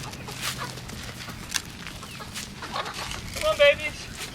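Chickens cluck faintly amid outdoor background noise, a few short clucks and squawks scattered across the moment, one sharper call near the end.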